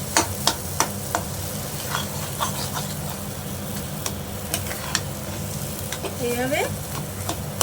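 Tomato dorma filling being stirred in a frying pan over low heat: steady soft sizzling with repeated scraping taps of the spoon, close by, and a brief voice partway through.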